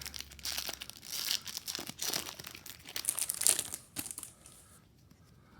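A Yu-Gi-Oh! card booster pack from a Konami 2019 Mega-Tin is torn open and crinkled, close-up foil crinkling and ripping in bursts over several seconds, then fading quiet.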